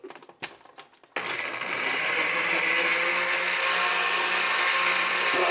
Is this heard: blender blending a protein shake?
yes